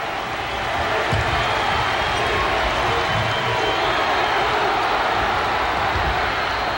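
A fired-up Indiana crowd roars steadily in a packed basketball arena during the 1990 game against Illinois, a dense sustained wash of cheering with faint ball bounces buried underneath.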